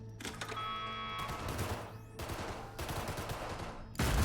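Bursts of automatic gunfire from Cyberpunk 2077, loud and close, coming in rapid volleys with brief pauses between them and a sharp final burst.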